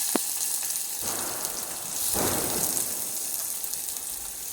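Green chillies sautéing in hot oil in a pan, a steady crackling sizzle that swells at moments, close and continuous with no voices.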